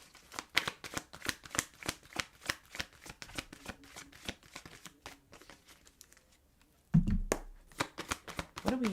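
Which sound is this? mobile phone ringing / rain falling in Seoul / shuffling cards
shuffling cards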